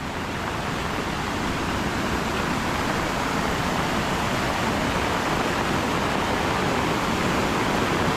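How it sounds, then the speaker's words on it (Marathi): A powerful waterfall roars steadily, a dense, unbroken rush of water with no pauses or voices. "आपण जवळ आलो धबधब्याच्या वॉटरफॉलच्या आणि किती पाणी आहे ते पहा"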